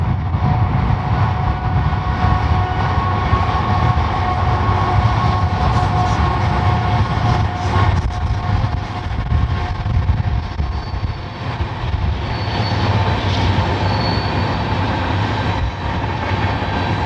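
A GE GEVO freight locomotive leads a northbound train past on the Fort Worth Subdivision, a steady loud rumble with wheel and rail noise throughout and no talking.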